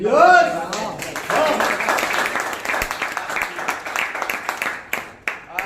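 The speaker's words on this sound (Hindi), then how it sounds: "लेकिन आप क्यों तालियां बजा रहे हैं दोस्त?" An audience claps in scattered, uneven bursts across several seconds, close and moderately loud, while a voice speaks at the start and over the clapping.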